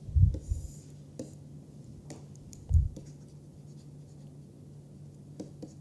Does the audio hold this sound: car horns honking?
no